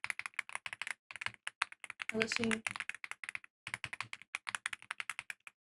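Rapid typing on a freshly cleaned mechanical keyboard, crisp close-up clicks in uneven bursts with short pauses, while a person speaks briefly over the keys.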